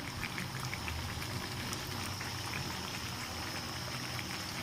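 Chicken meat cooking in a pot with spices, giving off a soft, steady bubbling and simmering hiss that stays faint and continuous, with no one talking.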